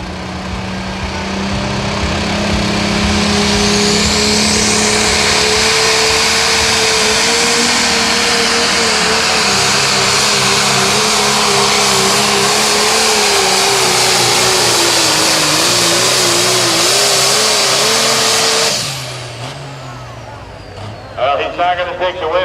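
A 9500 Limited Pro Stock pulling tractor called the Thunderbuck roars loud and sustained down a 371-foot night pull track, its engine note wavering and climbing for about eighteen seconds before cutting off abruptly, leaving faint crowd noise.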